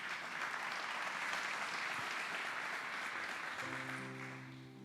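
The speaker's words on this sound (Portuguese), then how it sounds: "dá um aplauso, fique de pé" A church congregation at a Sunday celebration service applauding, a continuous broad wash of clapping that starts to fade near the end as a voice comes in.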